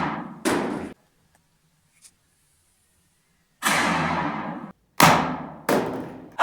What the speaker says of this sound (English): that is making a fairly loud thud